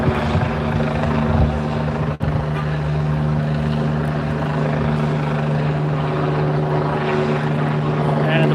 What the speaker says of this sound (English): You guys can't hear that helicopter in the air right now.